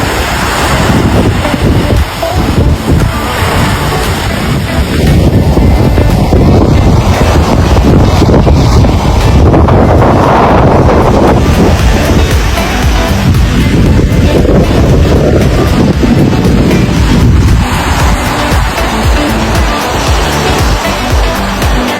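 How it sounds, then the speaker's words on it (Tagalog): Sea waves wash continuously onto the shore at a beach resort, a loud, constant roar heavily buffeted by wind noise on the microphone, with surges swelling and easing over time. "Pakinig nyo ang tunog na yun ng dagat ay talagang relaxing sa aking pandinig."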